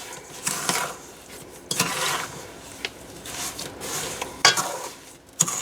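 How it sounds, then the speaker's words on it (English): Strawberries for freezer jam being stirred in a bowl, with soft wet squelching strokes and a few sharper scrapes recurring irregularly, close and fairly quiet. "we just want to give these a quick stir"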